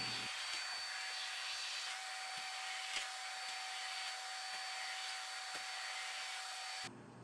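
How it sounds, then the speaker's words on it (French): A vacuum cleaner drones steadily over carpet, close and constant with a high whine, broken by faint knocks from the nozzle moving back and forth, before cutting off at the end. "Arrêtez l'aspirateur."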